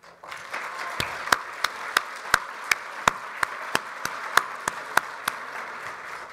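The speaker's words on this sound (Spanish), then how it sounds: "para quienes les pido un gran aplauso" Graduation-ceremony crowd at a Santiago university breaks into steady applause for the new graduates, a dense wash of many hands clapping with a few louder, regularly spaced claps standing out on top.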